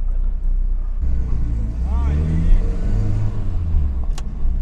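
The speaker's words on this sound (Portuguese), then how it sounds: "Só tá soltando o pé da embreagem na maciota." A car with an electronic carburetor pulls away as the clutch is eased out gently: a low, steady engine rumble rises and carries on close by, with someone talking over it.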